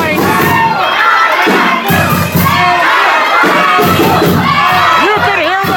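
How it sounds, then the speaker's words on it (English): A packed wrestling crowd at an intergender match roars and cheers loudly and continuously, shouts and screams layered into a dense wall of noise from start to finish. "Listen to this crowd erupt for this intergender clash that's about to take place."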